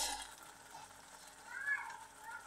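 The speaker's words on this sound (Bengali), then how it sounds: "ভালো করে নেড়ে কষিয়ে নিচ্ছি" Spiced masala for a Bual fish curry sizzles softly in a pan as it is stirred and sautéed, a quiet, steady frying hiss with faint scraping.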